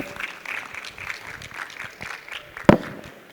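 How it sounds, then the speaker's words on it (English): Audience at an energy expo panel discussion claps in a thin, scattered way for a few seconds, with one sharp loud bang near the end and muffled crowd noise around it. "Come on with a loud clap"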